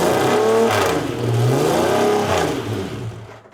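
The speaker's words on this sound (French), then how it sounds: "des monoplaces datant des années 30 à 70 vont s'affronter sur le circuit de Formule 1" Vintage single-seater race cars from the 1930s to 1970s roar through the streets of Monaco on the Formula 1 circuit, engines revving loudly and sweeping past in close succession for several seconds.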